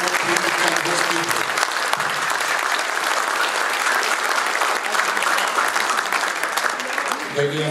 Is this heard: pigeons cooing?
no